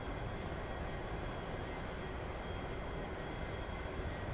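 A-4 Skyhawk jet engine in the DCS flight simulator, a dense, steady roar with a constant whine on top, loud and unbroken throughout.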